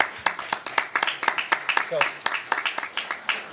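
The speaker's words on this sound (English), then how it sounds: "How about a round of applause?" Scattered, uneven clapping from a small group at a city council meeting, sharp individual claps in a loose rhythm, with voices talking over them.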